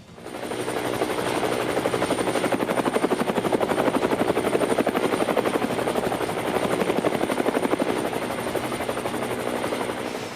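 Helicopters of the Sarang display team fly at Aero India in Bengaluru, a loud, close, continuous rapid rotor chop with a steady whine above it, lasting the whole stretch without talking.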